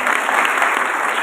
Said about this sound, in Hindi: आपको तालियों से वेलकम करते हैं।